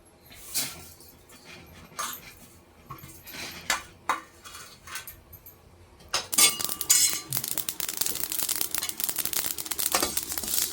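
Sesame seeds dry-roasting in a pan in a village kitchen: a dense, bright crackle builds up and continues, following scattered clinks and knocks of utensils.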